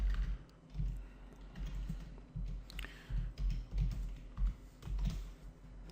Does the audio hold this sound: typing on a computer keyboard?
yes